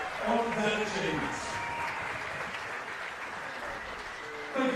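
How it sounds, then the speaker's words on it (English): A ballpark crowd at a Melbourne Aces versus Brisbane Bandits baseball game applauds pitcher Steve Kent for 400 career strikeouts, with scattered clapping spread across the stands and a public-address voice talking over it. "Let's give him a big round of applause and congratulations on that achievement."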